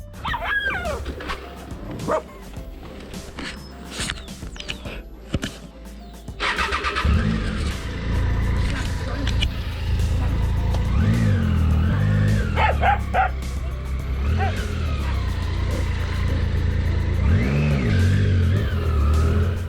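In a Peruvian Andean village, several dogs bark and yip sharply at vehicles. A loud engine then revs up and runs close by underneath the continuing barking.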